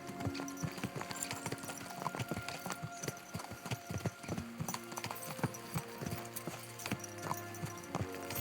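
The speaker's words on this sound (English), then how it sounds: "Let's really spur these horses on, eh?" Horses gallop at speed in the medieval game Kingdom Come Deliverance II, their hooves clip-clopping in a fast, steady rhythm close by, with music or ambience faintly underneath.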